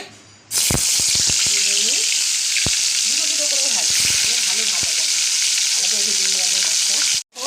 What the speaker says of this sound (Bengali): তেলটা গরম হয়ে গেছে এবার মাছটা আমি এক এক করে